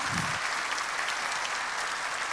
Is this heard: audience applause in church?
yes